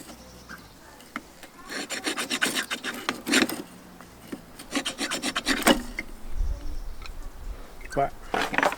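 A bushcraft knife's handle scraper rasps across wood in uneven bursts of gritty, close scratching strokes, with short pauses between passes and occasional quieter rubbing.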